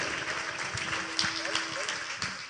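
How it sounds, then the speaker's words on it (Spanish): Warm applause welcoming a church coordinator at an anniversary gathering in a Guatemalan village, a faint, uneven patter of clapping heard at a distance, with speech and a steady hum underneath. "a quien lo recibimos con esos calurosos aplausos"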